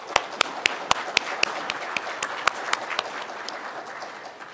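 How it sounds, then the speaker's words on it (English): A conference audience applauds with scattered, fairly sparse claps, sharp individual hand claps standing out at first and then thinning and fading over a few seconds. "Can we give them a round of applause?"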